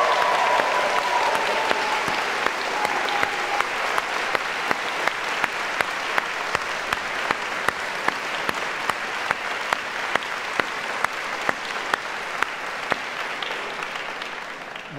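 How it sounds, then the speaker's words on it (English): An audience at a university piano concert applauds in a sustained, even round of clapping lasting the whole stretch, with a few sharper individual claps standing out over the crowd. "Please give a big round of applause for"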